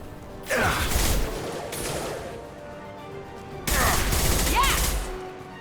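Gunfire in Mass Effect 2 comes as two loud, close bursts of shots with crashing impacts, separated by a quieter lull, while a voice speaks faintly underneath.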